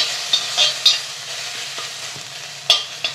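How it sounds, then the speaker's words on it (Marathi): Green chilli and ginger paste frying in a pan for a Navratri fasting pulao, a loud, steady sizzle broken by several sharp scrapes and taps of a stirring spoon. "हिरवी मिरची आणि आल्याची पेस्ट करून घेतली ती ह्याच्यात घालून छानपैकी आहे ना खमंग अशी फ्राय करून घेऊया"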